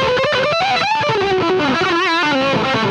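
Heavily distorted electric guitar through a Vox AV30 modelling tube amp at high gain, sustained notes bending and wavering continuously, loud and close.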